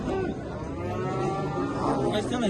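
A dairy cow moos in a long, drawn-out low call that fills the moment, fairly close, with faint background noise, at a livestock market in Kara-Balta.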